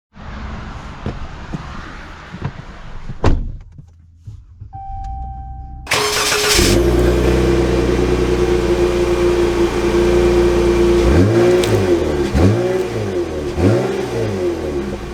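A 2023 Ram 1500 Tradesman pickup starts after a door thud and chime, settles into a loud steady idle heard close from inside the cab, then revs repeatedly as it pulls away.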